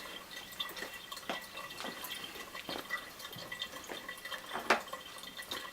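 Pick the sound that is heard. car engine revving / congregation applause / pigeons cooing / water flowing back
water flowing back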